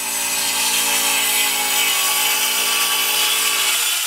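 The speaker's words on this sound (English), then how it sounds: "It's a radial arm saw." A radial arm saw runs loudly and continuously while trimming the jagged ends of wooden boards square, giving a sustained high-pitched whine with no pauses over a few seconds.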